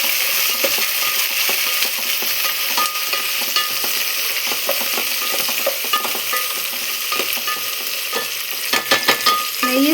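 A mint rice mixture for bagara annam sizzles in a pan as it is stirred, a steady frying hiss with light scraping and occasional metallic clinks of the spoon, close up, no speech.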